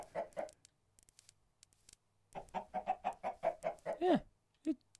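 Chicken clucking in modded Minecraft, a quick run of repeated clucks and squawks close up, preceded by a few softer clucks, with no talking.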